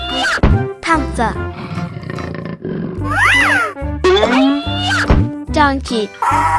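A panther roars in a 3D animal sliding video game, a loud close cartoonish roar amid game music and sound effects, with a person speaking over it.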